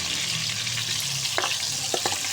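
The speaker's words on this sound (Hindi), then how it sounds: "बस टमाटर को मैंने अच्छे तरीके से फ्राई कर लिया।" Tomatoes frying in a pan for a potato and egg curry, a steady close sizzle with a few brief stirring scrapes, no talk.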